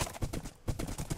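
Horse hooves galloping in the Minecraft video game, a quick rhythmic series of soft clip-clop beats, faint and close, with a short pause midway.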